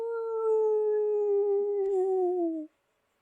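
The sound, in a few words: dog howling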